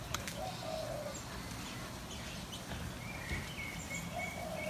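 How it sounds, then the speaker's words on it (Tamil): Small sparrows chirp from inside a garden hibiscus shrub, their faint high tweets scattered over a soft outdoor background hum, with no voices. "இதுக்குள்ளே குட்டி குட்டி குட்டி சிட்டுக்குருவி"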